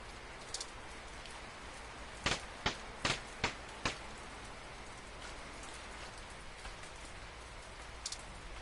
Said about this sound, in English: Probably not good, considering it's raining